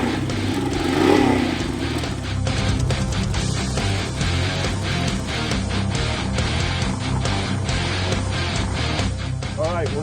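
A race engine fitted with a new, louder exhaust revs and roars continuously at close range in the paddock, with rising and falling throttle blips and voices talking underneath.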